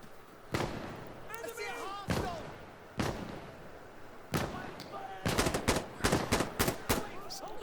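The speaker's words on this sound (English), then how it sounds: "Shots on the left." Gunfire in the video game Insurgency: Sandstorm: scattered sharp shots, then a rapid cluster of loud bursts near the end, over faint background chatter and distant game sounds.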